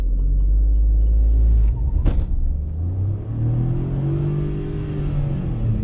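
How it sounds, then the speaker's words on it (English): A Mahindra XUV300 petrol with an AutoShift AMT gearbox accelerates in manual mode, its engine rumbling loudly up through the revs, pausing briefly at a gear change, then climbing again with a rising whine. "Yeah, it does hold up till a higher rev."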